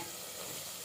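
Ginger garlic paste fries in oil for mutton biryani, giving a steady, dense sizzle that stays close and even, with no talking.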